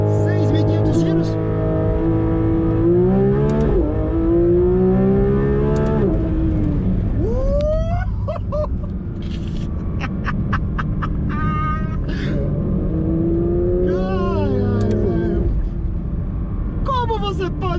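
A Porsche 911 GT3 RS 992 in Sport mode revs hard toward 6,500 rpm, its loud engine note climbing and falling in repeated sweeps while someone talks over it.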